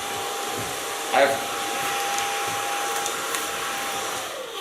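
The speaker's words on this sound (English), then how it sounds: "Blow dry it with a Kiona blow dryer." A Kiona hair dryer blows with a steady, even whoosh close by, holding constant throughout with a faint tonal hum and a brief bump early on.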